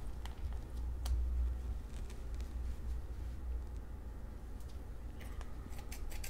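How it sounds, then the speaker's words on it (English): Scissors snipping open a Pokémon Darkness Ablaze card blister pack, a series of sharp crisp cuts close by, scattered clicks and snips over a low background rumble with no talking. "Got the scissors."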